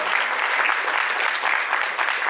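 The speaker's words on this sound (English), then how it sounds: "Let's have a huge round of applause" A crowd at a streaming series trailer launch breaks into a huge round of applause, dense and loud continuous clapping throughout.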